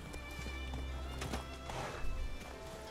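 Hooves of Roach, Geralt's horse in The Witcher video game, a faint clip-clop of steps at a gentle walk amid quiet ambient tones, with a soft snort-like sound near the end.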